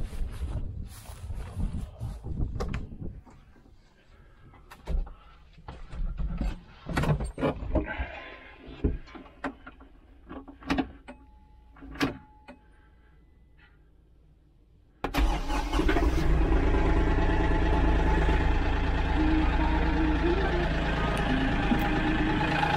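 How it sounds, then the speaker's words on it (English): Kioti CK3510 compact tractor idling at low RPM after being started, a steady close rumble that fills the second half, preceded by quieter clunks and handling noises. "start the tractor up on low RPM and just walk around and check for some leaks."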